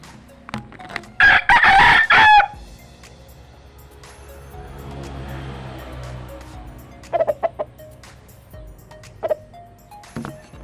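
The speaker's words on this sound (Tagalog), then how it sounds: "So nakikisali din yung isa kong manok dito" A fighting rooster crows loudly once nearby, followed by scattered clucks and shorter calls from chickens, with a faint engine rumble in between.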